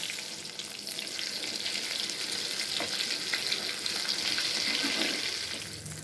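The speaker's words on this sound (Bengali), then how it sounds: "বাকিগুলো এভাবে ভেজে নেব" Eggplant slices frying in a pan of oil make a steady, close, bright sizzle with fine crackles throughout, no talking.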